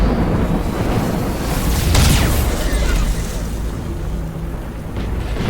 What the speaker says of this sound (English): My battlecruiser is getting the living crap shot out of it.